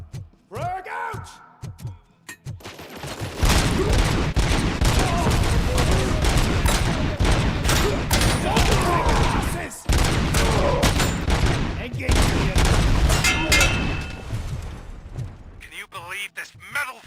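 Heavy gunfire and a grenade blast in the video game RoboCop: Rogue City, loud and close, with sustained bursts of shots after a few sharp opening hits and a brief lull partway through. A shouted voice can be heard amid the battle.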